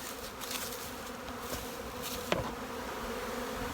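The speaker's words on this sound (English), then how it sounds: "So there's a lot of bees" Honey bees swarm around an open syrup feeder in a bee yard, a continuous dense buzzing hum of many insects nearby, with one brief sharp click partway through and no talking.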